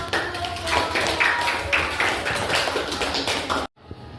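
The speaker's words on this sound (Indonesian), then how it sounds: "Oke, tepuk tangan." A classroom group applauds after a group presentation, with many hands clapping together in a dense, steady patter for several seconds before it stops abruptly.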